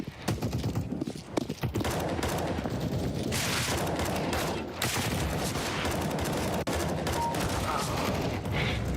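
Rapid gunfire from the video game CS:GO, dense bursts of automatic shots mixed with impacts and clatter, loud and continuous throughout with no talking.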